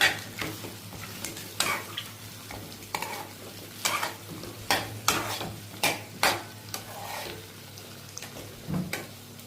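Drumsticks being stirred into a frying tomato curry in a pan make a quiet sizzle underneath a series of distinct spatula scrapes and clatters, roughly one every second, close and fairly loud.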